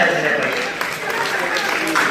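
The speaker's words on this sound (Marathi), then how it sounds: "विशाल मोरे सरांसाठी सगळ्यांच्या अथांग टाळ्या झाल्या पाहिजे" Audience applause for an award recipient at an anniversary award ceremony, a steady wash of clapping from a crowd lasting the whole moment, fairly loud and even.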